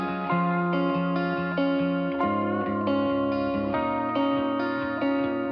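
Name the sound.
lead guitar intro, single track in the middle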